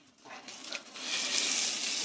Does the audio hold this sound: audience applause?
no